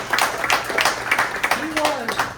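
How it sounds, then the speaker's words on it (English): Crowd at a Hagerstown Regional Airport mascot reveal clapping for a former airport manager, scattered applause under a speaking voice that continues over it. "Let's give her a round of applause."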